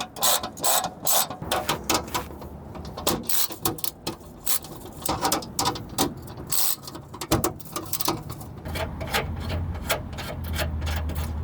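Ratchet wrench unscrewing a bolt on a 200,000-mile JDM car, its rapid clicking bursts repeating in uneven runs up close, mixed with metallic rubbing and scraping, with no talk.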